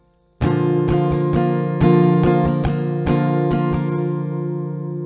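An acoustic guitar strums a pattern at a slower tempo, each chord stroke sharp and clear in a steady rhythm that rings out close and loud, with no voice over it.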